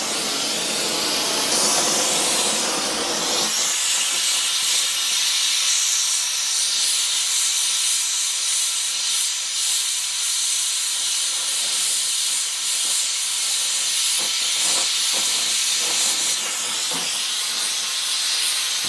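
Gas torch roaring with a steady loud hiss while brazing copper to steel on a 1930 Peugeot inlet manifold, continuous throughout with faint clicks and small crackles in the later part.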